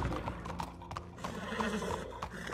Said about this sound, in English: No, but get that horse hidden away, Clive, and ready to move out as soon as we